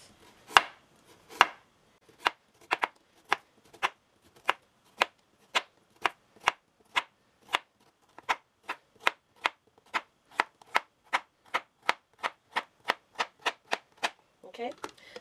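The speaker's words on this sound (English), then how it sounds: "you're just going to take your carrots and you're going to slice those into pieces" Carrots sliced into pieces with a knife on a cutting board, a steady run of about thirty crisp, sharp knife taps in a fairly even rhythm, close and clear, with no talking over them.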